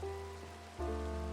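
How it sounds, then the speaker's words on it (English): Steady rain falling in the Minecraft video game on Xbox 360, a soft continuous patter that stays even throughout and swells slightly louder near the end, with no voices over it. "Looks like we're getting some rain right now."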